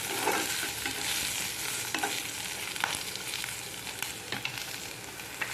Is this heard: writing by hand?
no